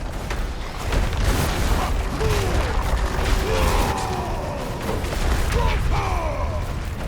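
Barbarian Upheaval skill impacts in Diablo 4 land as repeated heavy booms and crunching blasts over dense combat noise, loud and continuous, with a voice talking over parts of it.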